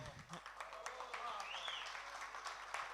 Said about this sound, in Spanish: Un aplauso, loco